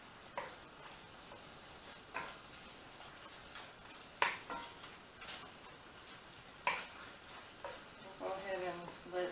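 Bacon and cabbage frying in a pan, a soft steady sizzle with scattered clicks and occasional sharper clinks from stirring, moderately close and fairly quiet.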